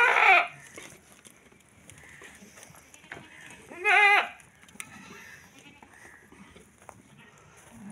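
Goats bleat at milking time on a farm, two loud separate calls a few seconds apart, with quieter background movement and faint noises in between.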